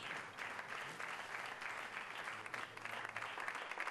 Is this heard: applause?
yes